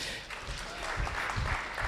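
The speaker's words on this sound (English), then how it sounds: "Tafadhali clap for yourselves." Audience clapping at a rebranding event for a communications company, a soft patter of applause that swells slightly and holds steady through the short stretch, with some low bumps underneath.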